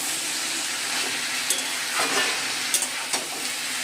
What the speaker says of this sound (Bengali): চিচিঙ্গা ভাজছি কালো জিরে কাঁচা লঙ্কা দিয়ে